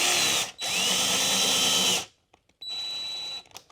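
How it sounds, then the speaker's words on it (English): A power drill countersinks screw holes in shower waterproofing board in two close, high-pitched whining bursts, the first about one and a half seconds and the second shorter, separated by a brief pause with small clicks. "I'm just doing a slight little countersink, and then we'll be able to go over these guys with sealant"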